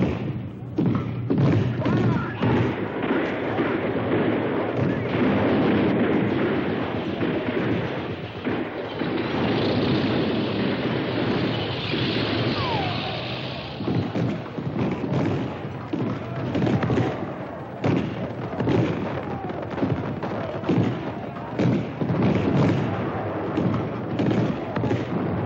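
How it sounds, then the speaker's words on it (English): Tanks firing point blank at the walls and garden of an old citadel during the Battle of Hue in Vietnam, a relentless stream of heavy thumps and booms with dense rumbling battle noise throughout. "Supporting the advance, tanks fire point blank at the walls and garden of the citadel."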